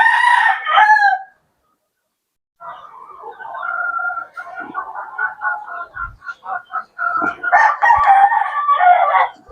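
Chickens and roosters at a small farm crow and cluck loudly nearby in repeated bursts, with a short silent gap early on.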